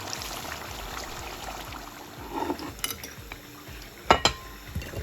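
Liver sauce ingredients fry in a pan with a steady low sizzle, joined by a few clinks of a utensil against the pan and brief scraping stirs, with no talking.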